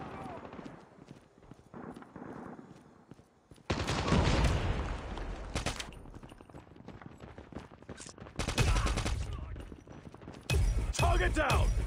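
A friendly sentry gun firing in Call of Duty Mobile, rattling automatic bursts that come in loud waves between quieter stretches, mixed with other game sounds and talking.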